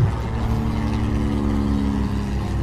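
A vintage Fairchild PT-19 open-cockpit airplane passing in a flyby at an air show, its piston engine droning loud and steady with a harmonic hum that holds for the whole moment.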